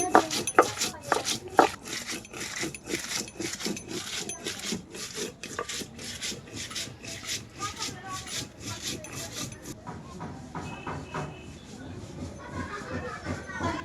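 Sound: grinding ginger, cumin, garlic, cardamom, dried chili on stone slab

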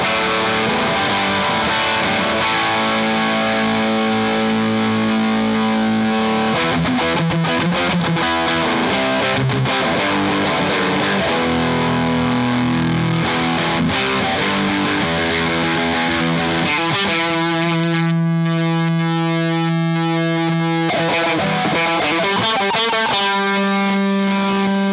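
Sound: electric guitar through Laney IRF-Loudpedal amp with distortion

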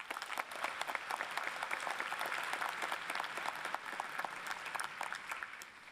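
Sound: graduates applauding themselves

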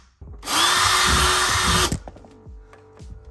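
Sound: power drill driving screws to mount fans

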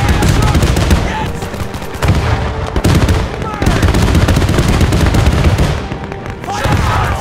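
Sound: gunfire in the video game Men of War 2

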